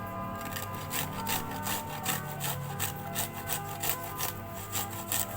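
Garlic being grated produces quiet, rhythmic rasping strokes, a rapid back-and-forth scraping repeated a few times per second, close by and with no speech.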